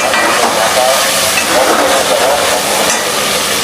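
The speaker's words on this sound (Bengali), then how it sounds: "তো এখন মশলাটা ভালো করে কষানো হোক।" Spice paste with cumin powder being sautéed in a pan, a loud, close, unbroken sizzle of hot oil with faint stirring movement beneath it.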